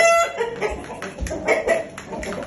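Chickens cluck in a rooster enclosure, giving several short, close clucks and calls over a low background rumble.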